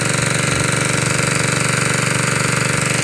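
Bore well drilling machine working in a rice field, a loud steady mechanical pounding with a fast repetitive knock over a continuous engine drone throughout, no voices.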